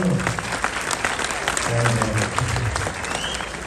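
Audience applause at a community interview event at an Islamic institution in Vancouver, a dense steady clatter of many hands filling the whole stretch, with a few voices faintly underneath.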